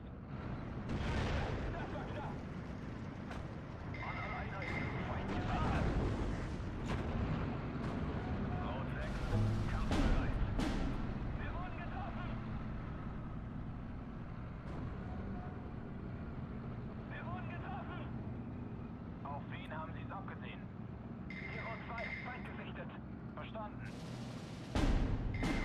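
A 1,000 kg bomb lands on a mortar position in the wartime strategy game Steel Division 2, rumbling among continuous artillery and gunfire, while someone talks over the din almost the whole time.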